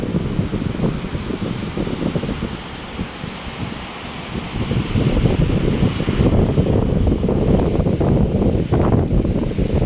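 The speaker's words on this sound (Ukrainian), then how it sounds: "Дме потужний вітер." Strong wind roars and buffets the microphone continuously in rainy Kyiv, a loud rushing gust with no voices.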